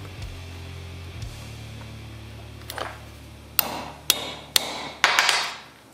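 A hammer strikes a grommet setting die to set a grommet on restored armor, giving four sharp, close, evenly spaced metallic whacks after some softer handling taps, with no talking.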